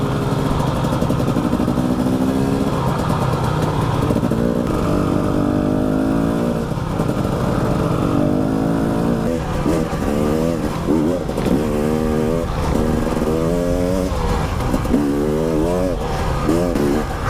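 A KTM 250 EXC TPI 2019 enduro dirt bike engine drones close by, its revs rising and falling repeatedly in a continuous, loud buzz.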